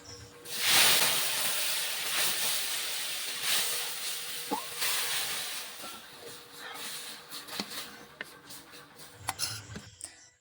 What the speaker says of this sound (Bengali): এদিকে কড়াইয়ে সর্ষের তেল দিয়ে ফোড়নে দিয়ে দিব পেঁয়াজ কুচি